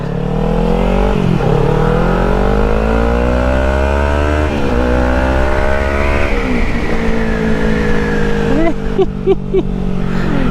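A Kawasaki Ninja 300 motorcycle engine revs up through the gears, with rising whine and shift dips repeating across the run, loud and close, ending in a few quick throttle blips.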